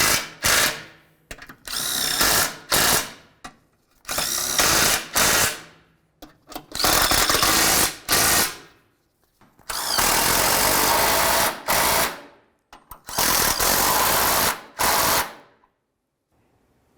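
A power tool on a 2009-2020 Dodge Journey snugs up bolts during a water pump replacement, running in loud, close, repeated bursts of varying length separated by short pauses.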